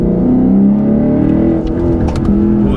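A Lexus RC F pulls hard in second gear, its engine a loud, sustained drone climbing in pitch from inside the cabin, with brief lighter noises late on.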